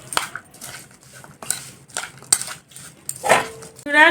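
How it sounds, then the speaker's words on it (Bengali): Green chillies being mixed by hand with spices, salt and lemon juice for a homemade pickle, giving wet squelching and crunching with scattered clinks of utensils on a bowl, close up. "লঙ্কাটা তো ভালো করে মশলা দিয়ে মাখিয়ে নিয়েছি"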